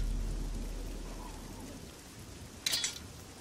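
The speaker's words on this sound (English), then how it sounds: "And it's still raining." Rain falling in the video game Oblivion, a soft steady hiss of rainfall with low rumble fading, then a brief brighter splash near the end; no talking.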